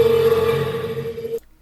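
A voice imitates a monster's roar, a sustained low growling tone held for over a second before cutting off abruptly.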